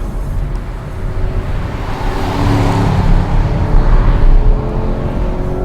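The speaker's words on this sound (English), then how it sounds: "With an engine note like this," A Chevrolet Camaro SS with a massive engine, heard while driving: a loud, continuous, rumbling engine note that builds and swells across the passage, with no talking.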